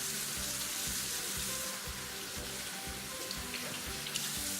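Water runs steadily from a bathroom tap during face washing at home, a continuous hiss and splash close by with faint irregular splatters as hands move through the stream.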